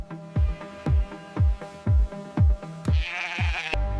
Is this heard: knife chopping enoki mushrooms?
no